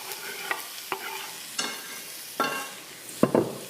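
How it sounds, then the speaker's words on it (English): Onions frying in extra virgin olive oil in a pan for a Tuscan soup, with a quiet sizzle broken by several sharp scraping stirs spaced about a second apart. "A little bit of extra virgin olive oil in there, just so that we can get going. And then in with our onions."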